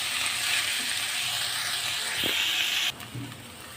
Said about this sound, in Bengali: ডালটা মিশিয়ে নেব এবং এর সাথে ভেজে নেব একটু।